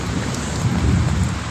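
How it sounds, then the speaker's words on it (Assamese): Steady rain pours down in a dense, even wash with no pauses, close and moderately loud, and no voices are heard over it. "বৰষুণ পৰি আছে"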